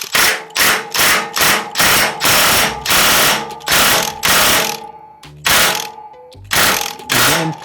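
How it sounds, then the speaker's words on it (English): An impact gun torques down the chain sprocket bolt on a Harley-Davidson Softail Street Bob FXBB M8 during a belt-to-chain conversion, loud rattling bursts repeating in a quick rhythm with short pauses between them. "you can use that impact gun and just torque it down until it gets to the range that you need"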